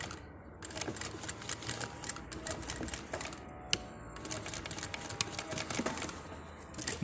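A sewing machine runs in stop-start bursts of quick rattling stitches, sewing a 1 cm seam on a cushion for an iron chair, fairly quiet and close, with no talking.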